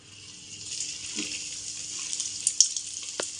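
Egg cutlets slide into hot oil in a kadai and fry with a close, steady sizzling hiss that swells gently, with a few sharp crackles and pops near the end.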